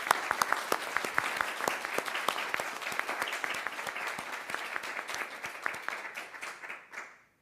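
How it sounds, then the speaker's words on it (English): Audience applause at an academic speakers' series on Indigenous education, dense steady clapping filling the room for about seven seconds before thinning and fading out at the end. "If you could join me in a round of applause"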